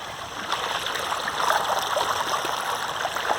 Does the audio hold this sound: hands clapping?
no